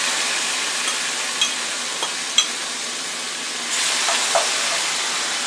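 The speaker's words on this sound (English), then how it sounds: "we're going to drop our vegetables now, the red pepper, onion, garlic, and cilantro down on this side of the frying pan" Red pepper, onion, garlic and cilantro sizzle in a frying pan beside shrimp, a steady close hiss with a few light clinks and stirring taps, swelling into louder frying near the end.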